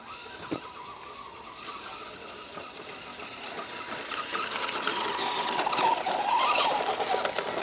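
An ECX Torment 1/10-scale RC short course truck drives with a thin electric whine and scuffing that sound fairly distant and quiet at first, then grow a little louder toward the end.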